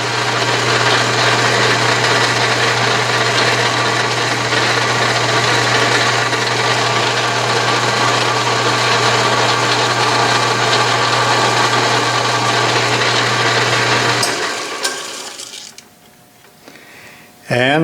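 A steady, loud running drone and low hum come from an Atlas/Craftsman 12-inch metal lathe during a thread-cutting pass, then fade out near the end with a few clicks and a brief return of sound.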